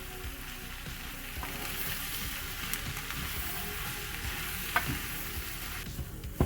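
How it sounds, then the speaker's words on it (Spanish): Spiced potato samosa filling being stirred and mixed in a pan, giving a steady low sizzle of frying with soft, continuous scraping and stirring strokes throughout, close and even in level. "vamos a empezar a mezclar todo perfectamente"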